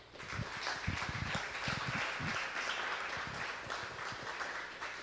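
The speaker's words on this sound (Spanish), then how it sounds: "Démosle un fuerte aplauso a la gente que está por la web." Applause from a church congregation at a Torah study gathering, a broad steady wash of clapping with scattered louder claps near the start, holding at an even level throughout.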